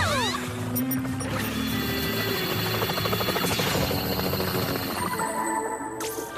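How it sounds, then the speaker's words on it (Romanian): A cartoon helicopter in an animated spy series gives a steady, dense mechanical whir with a rhythmic rotor chop that fills the whole stretch at an even level, with no talk over it. "Haideți, ne așteaptă elicopterul lui."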